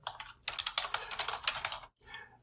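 Rapid close typing of Python code on a computer keyboard, dense clattering keystrokes in two bursts separated by a brief pause.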